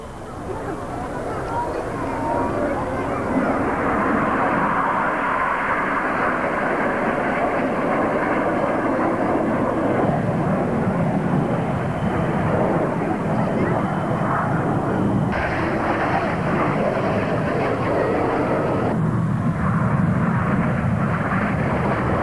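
Aerobatic team aircraft flying past at a 1992 Humberside air show, a loud continuous engine roar sustained for the whole pass, broad and rushing, with the tone shifting partway as the formation moves.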